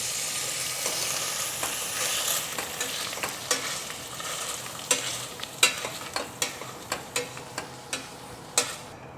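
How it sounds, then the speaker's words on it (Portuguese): Cooked potatoes are mashed and stirred in a hot pan over lowered heat, giving a soft sizzle under a series of sharp, regular scraping and tapping strokes that grow more frequent toward the end. "Vamos botar a batata agora e esmagar ela e fazer o purê."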